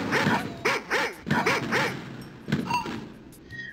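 Pixelated dog barks from the 1992 shooter Wolfenstein 3D sound out in quick repeated bursts of three or four, close and loud, followed by a sharper yelp and fading game noises.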